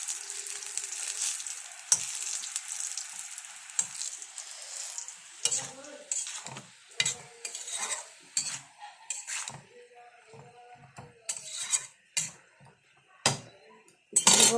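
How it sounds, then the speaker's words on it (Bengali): Matar dal bora, lentil fritters, sizzle in hot oil with a steady crackle, broken by frequent sharp clinks and scrapes of a utensil against the pan; no one speaks. "আমার বড়াগুলো ভাজা হচ্ছে।"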